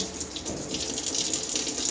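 Tap water pouring steadily while a dishwasher part is rinsed clean, a close, continuous hissing splash with slight fluctuations as the flow hits the piece.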